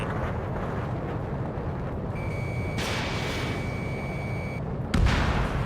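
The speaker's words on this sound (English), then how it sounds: "Bandit acquired. Firing." A weapon fires at an enemy fighter in the Ace Combat 7 jet combat game: a constant cockpit engine roar carries a sustained high lock-on tone, then a sharp loud launch burst near the end.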